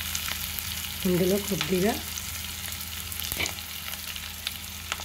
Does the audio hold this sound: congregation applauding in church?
no